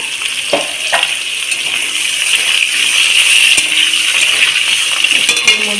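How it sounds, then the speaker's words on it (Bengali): Cut potatoes frying lightly in oil, a loud, close, steady hiss and crackle with occasional clinks of a utensil against the pan. "আলুটাকে আমি একটু হালকা করে ভেজে নেবো"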